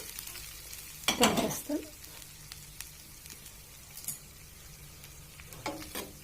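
Cooked rice spooned into wood apple pulihora and stirred through, two short bursts of scraping and mixing against the pan with a quiet stretch between them, fairly close.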